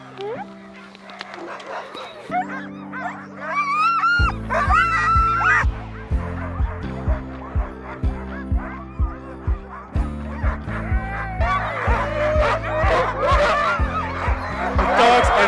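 A pack of sled dogs in Lapland, Sweden yips and barks eagerly, the calls overlapping over a steady rhythmic engine-like thumping, with a person's voice briefly mixed in.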